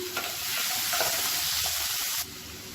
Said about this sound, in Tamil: இதை சேர்த்துட்டு நல்லா மசிஞ்சு வர்ற அளவுக்கு நல்லா எண்ணெயில் வதக்கிக்கலாம்.